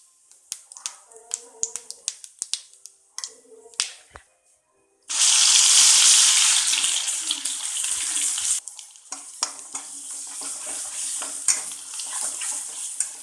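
Cumin seeds, asafoetida and a ground paste dropped into hot oil in a kadhai burst into a loud, sudden sizzle that slowly fades to a steady crackle, after several seconds of light clicks and taps.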